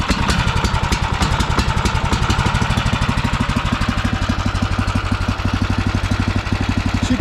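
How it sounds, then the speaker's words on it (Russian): Rybak PKD motorized snow tow with roller suspension and reverse gear, its small engine idling after a key start, a close, steady, fast-pulsing putter that stays loud and even throughout with no talk. "То есть можно с ключа завести наш мотобуксировщик"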